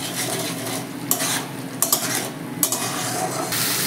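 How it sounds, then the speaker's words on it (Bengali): Spice masala with Kashmiri chili, salt and slit green chilies sizzles in a pan for a fish roe dopeyaja while a utensil stirs and scrapes it, with a continuous loud frying hiss and periodic scraping strokes, close and without talk. "এবার সমস্ত মশলাটাকে আমি খুব ভালো করে কষে নেব।"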